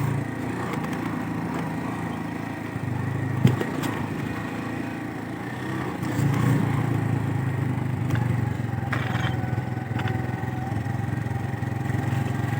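Motorcycle engines labor up a snow-covered mountain track near Ganga Choti, Bagh district, a sustained close drone that swells slightly partway through, with faint clicks and rattles and no voices.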